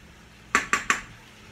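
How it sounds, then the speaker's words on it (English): Utensil stirring noodles in a pot gives three quick metallic clanks in a row, sharp and close, against a quiet kitchen background. "Let me stir these noodles up again."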